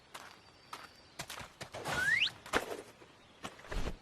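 Cartoon horse hooves clip-clop in a few sparse, sharp knocks, mixed with a rising squeaky whistle and a soft thump near the end, and no one speaks.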